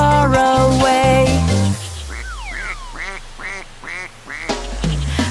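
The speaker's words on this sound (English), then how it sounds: "Mother duck said quack, quack, quack, quack." Cartoon-style duck quacks in a children's nursery rhyme song: a run of five or six rhythmic, nasal quacks following a musical phrase, loud and close over a soft music backing.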